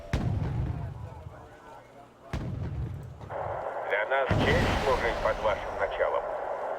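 Naval combat in Wargame: Red Dragon as an enemy ship is destroyed: heavy booming blasts and gunfire bursts, followed by a loud crackling, rumbling explosion that carries to the end.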